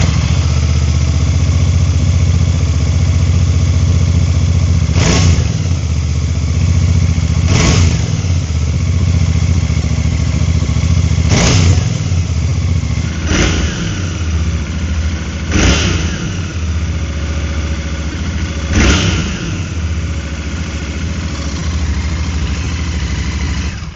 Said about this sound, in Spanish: a mí me gusta mucho cómo suena el motor 650 2 cilindros de Royal Enfield